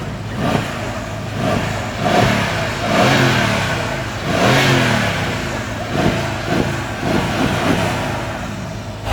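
A stock Mercedes CLS63 AMG V8 engine revs repeatedly, loud and close, rising and falling in several throttle blips over a steady idle, with no talking.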